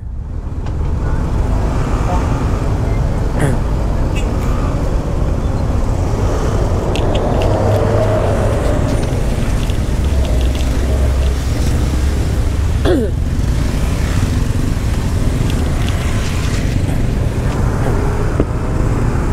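A truck moves through street traffic in the Denpasar city centre at midday, with a steady loud engine rumble and road noise throughout. Wind buffets the microphone and a voice speaks intermittently.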